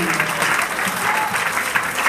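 Church congregation clapping together during a Spanish-language sermon, a full, continuous roll of many hands filling the room, with a faint voice underneath.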